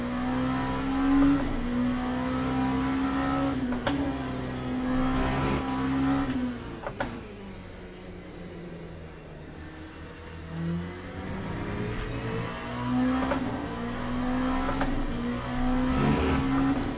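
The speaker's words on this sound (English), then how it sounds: "my rev lights are going up to the red line when I rev it out" A race car engine in Le Mans Ultimate revs and holds a steady high whine, dips as it backs off mid-run, then climbs and sustains again, loud and close with no talk.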